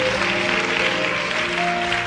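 Applause from a church audience at a prophetic service, a dense, steady wash of clapping filling the whole moment without a break, with tones of music or a held chord sounding underneath.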